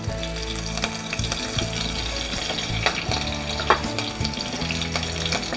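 Whole spices, a bay leaf, a sliced green chilli and two dried red chillies sizzle in hot oil in a pan for a chana aloo curry, a steady close crackle with small bursts throughout and no talking.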